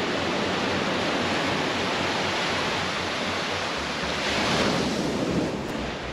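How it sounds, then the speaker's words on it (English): Waves off the Maui shore, their water dark with soot and burnt wood, crash steadily in a dense, roaring surge mixed with wind buffeting the microphone, with no voices. "The famous blue Maui water, now black with soot and burnt wood crashing against the shore."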